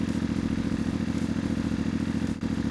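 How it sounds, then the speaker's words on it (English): The stock exhaust of a CFMOTO Ibex 450 motorcycle idles steadily up close, a loud, even, throbbing low pulse that holds without a break, with no voices. "which is the stock exhaust note, check this out."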